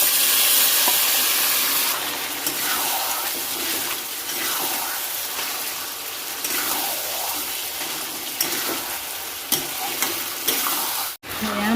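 Meat frying with onions and spices in a pan gives a loud, close, continuous sizzle with stirring scrapes, ending with a sharp clatter.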